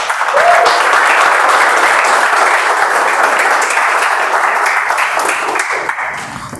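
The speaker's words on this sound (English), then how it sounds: "With a huge round of applause," A Toastmasters meeting audience gives a speaker a sustained, dense round of applause that stays loud and even for several seconds before easing slightly at the end.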